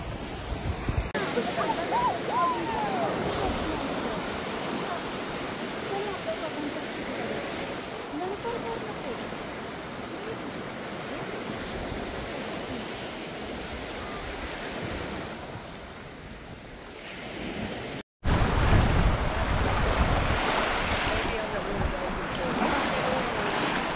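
Ocean surf at Panama City Beach, Florida washes steadily and loudly with constant rushing noise and wind against the microphone, broken by a brief cut.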